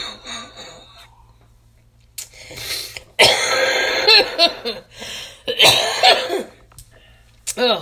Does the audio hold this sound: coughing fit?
yes